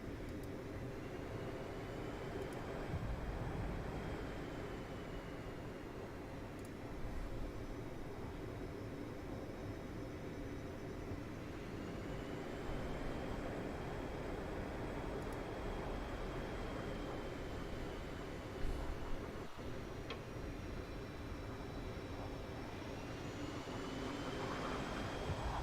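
Aircraft landing in the DCS flight simulator game, heard as a steady, continuous jet engine drone with a high whine that holds for the whole stretch at moderate loudness, with no talking.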